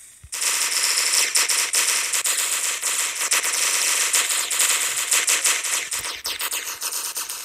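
Sustained automatic gunfire in a prison-set video game, a dense continuous rattle of rapid shots that runs loud almost the whole way through, with no talk over it.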